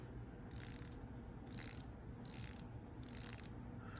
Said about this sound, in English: It's the smoothest bezel I have ever felt. It's 120 click.